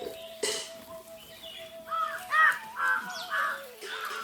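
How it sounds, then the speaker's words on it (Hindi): Crows caw at feeding time at an ashram, giving several harsh calls in an uneven series at moderate distance over a faint steady background tone. "अब डालना बाकी है कौओं को।"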